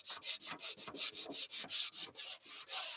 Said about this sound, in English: So that's why we like to hand sand it